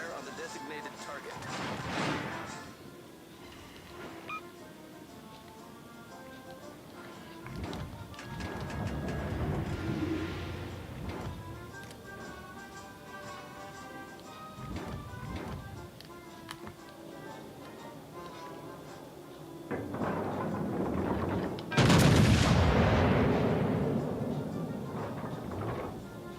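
Naval gunfire and incoming armor-piercing shells, including the rear gun of the Alaska, sound in World of Warships: Legends as scattered booms and impacts, with a heavy blast near the end and talk in between.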